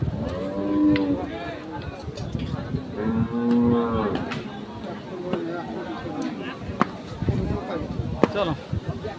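A young female buffalo at a cattle market lets out two long, loud, close moos in the first seconds, over a constant murmur of crowd voices and market bustle, with people talking nearby.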